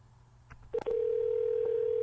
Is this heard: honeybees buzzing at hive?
no